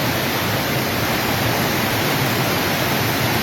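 Floodwater pours down a street in Greece during heavy rain, churning like a torrent; a loud, steady, unbroken rushing roar of water fills the whole stretch with no voices.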